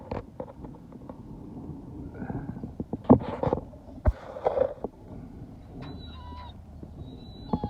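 Goose honking at a distance near water, a few short scattered calls over soft background movement and low rumbling noise.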